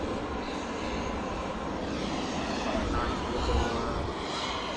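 An Airbus A350 airliner lands at Manchester Airport, its engines giving a steady, broad roar at moderate distance throughout.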